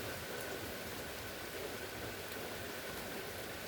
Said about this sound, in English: So the rain's here and it's moving in the easterly direction.